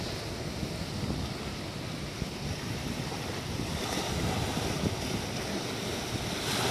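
Sea waves at Vung Tau beach during a fishing outing, a continuous loud roar of surf mixed with heavy wind buffeting, no voices.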